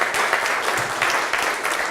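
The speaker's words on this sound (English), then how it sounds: "give another round of applause to Jesse" Audience applause at a tech talk, a short stretch of dense, even clapping from a crowd, fairly close and continuous with no voices over it.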